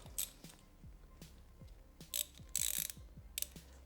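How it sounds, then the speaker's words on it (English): Hand ratchet loosening Phillips and hex screws on the oil filter cover of a Yamaha TW200 motorcycle: quiet, close rhythmic clicking of the pawl in short repeated strokes, with a few sharper metallic scrapes. "For some reason, the engineers decided to use 2 Phillips screws and a hex bit, so we'll just loosen those up."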